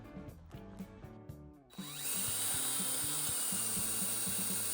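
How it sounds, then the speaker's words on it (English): Some soft rhythmic tapping, then a power drill spins up and whines loudly and steadily, close by, drilling into a remote control supported on stacked shims. "I need to support this part here so that I don't break it when I drill into it"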